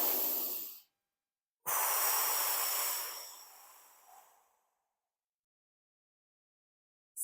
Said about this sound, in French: Inspirez sur une moitié et expirez